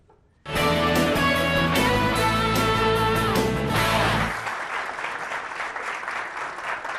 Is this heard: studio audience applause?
yes